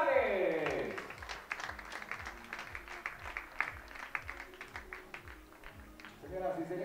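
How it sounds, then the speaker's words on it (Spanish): Spectators applaud at a professional tennis match in Monterrey, steady crowd clapping through the arena with a public-address voice speaking over the start. "Y le damos un fuerte aplauso también, por supuesto, de Colombia, Alejandro González."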